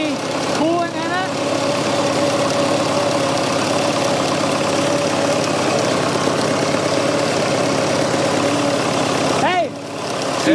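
The diesel engine of a Fordson Super Major backhoe runs at a loud, steady idle nearby, with voices heard over its constant rumble.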